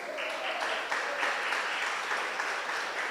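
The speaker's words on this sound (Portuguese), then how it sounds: "dê um aplauso para o Senhor" A church congregation claps together in praise, a dense, steady wash of applause that holds at an even level throughout without pausing.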